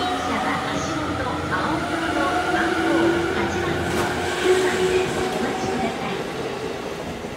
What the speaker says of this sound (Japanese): 1番線回送電車動いております。